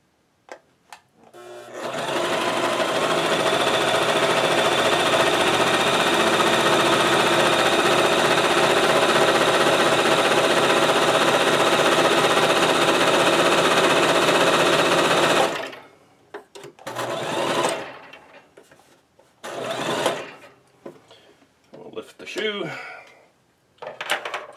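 A sewing machine stitches canvas fabric for a DIY rucksack, running loud and steady for about thirteen seconds, then stopping, followed by short bursts of stitching and handling noise.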